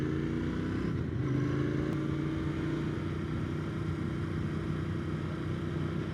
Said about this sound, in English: the exhaust got a nice grumble to it when you close the throttle.